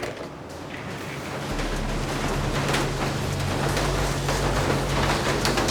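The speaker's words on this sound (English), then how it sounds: "it's great timing that it's raining right now" Rain falling outside a house with a covered amenity area beyond a glass door: steady, hissing rainfall that thickens after the first second, with a low rumbling hum beneath it.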